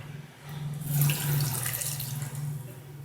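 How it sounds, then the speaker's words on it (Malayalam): Water pours steadily into a blender of gooseberries for juice for a few seconds, a continuous splashing rush that swells and then holds. "അപ്പോൾ നമുക്ക് ഇതിൽ 1 ഗ്ലാസ് വെള്ളം ഒഴിക്കാം."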